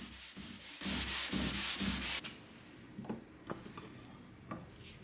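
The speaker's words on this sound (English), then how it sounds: "I sand the whole piece down to 240 grit before applying the first coat of hard wax oil." A wooden Art Deco piece is sanded to 240 grit: a loud, rhythmic rasping of rapid back-and-forth strokes for about two seconds, then quieter scattered taps and rubs.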